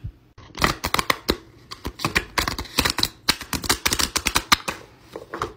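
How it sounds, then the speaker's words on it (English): Cards are riffled and flicked in rapid, crisp bursts of clicking and snapping, close up and continuous with no talking. "That's probably the worst I've ever shuffled anything"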